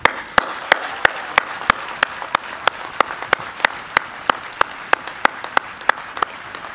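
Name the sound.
audience applause at a naturalization ceremony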